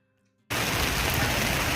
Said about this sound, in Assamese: চেৰাপুঞ্জীৰ অলমষ্ট ধাৰাসাৰ বৰষুণ এজাক নামিয়ে আহিলে।